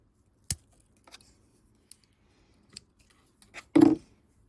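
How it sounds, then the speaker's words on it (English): Sharp snips cutting sweet potato slips just below the nodes, giving a few crisp, isolated clicks spread apart and one louder closing snap near the end, with no talking. "use a pair of really sharp snips and cut it just below those nodes"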